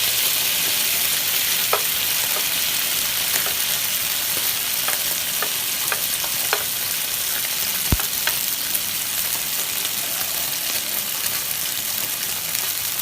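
Mung bean sprouts sauté with oyster sauce in a hot pan, giving a continuous bright sizzle with occasional clinks and stirring scrapes, close and steady with no talking.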